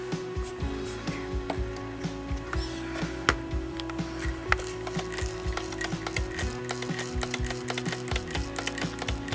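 A Dressmaker model 160 sewing machine is turned by hand, giving faint, close mechanical clicking and ratcheting with irregular small knocks and a low steady hum throughout, no voices.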